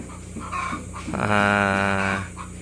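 Chickens cluck close by, with a drawn-out, tonal call rising over the short clucks in the middle of the clip.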